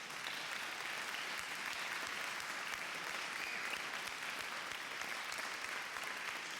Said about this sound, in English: I would love for all of us to give them a round of applause.